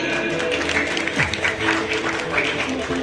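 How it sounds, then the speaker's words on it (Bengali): An audience at a Bengali award and trophy ceremony claps loudly, steady dense applause over a live stage microphone with a voice calling out over the crowd. "জোরে হাততালি"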